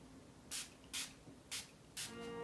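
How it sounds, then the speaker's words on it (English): Milani Make It Last Original Natural Finish setting spray is sprayed onto a face in four short, soft hissing bursts about half a second apart, close and quiet, with no talk. "And I'm going to spray it all over my face"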